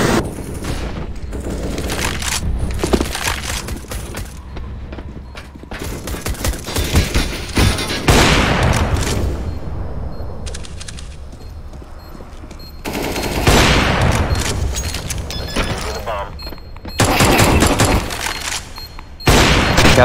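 Heavy automatic gunfire in the Counter-Strike video game, loud volleys of rifle shots in long bursts broken by short lulls, with booming impacts mixed in.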